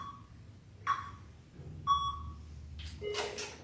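Workout timer app giving two short, clear electronic beeps about a second apart over a low room hum, followed by a brief burst of broadband rustle near the end.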